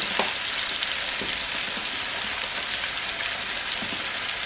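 Unbreaded chicken fries in a pan, a close, steady hiss and crackling sizzle with scattered pops, running continuously without talk.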